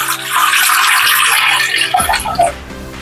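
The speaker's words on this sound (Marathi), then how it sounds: "आता याच घमेल्यामध्ये मी अजून एकदा पुन्हा एकदा थोडंसं पाणी घालते" Water pours steadily into a metal basin while making wheat kurdai, with a rushing splash, then slows to a few trickles and drips near the end.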